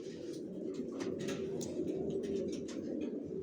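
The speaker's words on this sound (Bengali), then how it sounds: "সব কোয়ালিটি সম্পন্ন কবুতর পালি" Racer pigeons coo continuously in a loft, a steady low murmuring drone with soft overlapping calls and faint higher chirps, close and moderately loud throughout.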